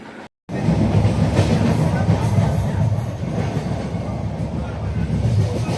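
Passenger train rolling toward the Konkan region, a loud steady rumble of wheels and carriages with faint clickety-clack, continuous after a brief dropout near the start.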